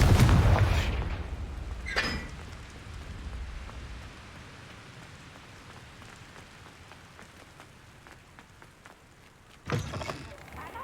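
Blast of a Confringo fire spell in Hogwarts Legacy: a loud boom at the opening with a rumbling tail, a sharper crack about two seconds in, then a low hiss and a second burst near the end.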